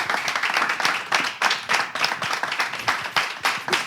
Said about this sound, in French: Les équipes peuvent aussi applaudir pour eux